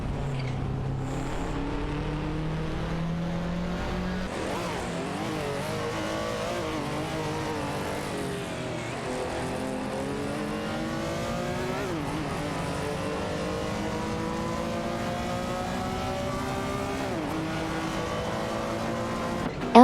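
An Alfa Romeo 75 and a Ford Sierra RS 500 race in an AI racing game, with steady engine drone and repeated rising and falling pitch sweeps as the cars shift and accelerate, under continuous commentary.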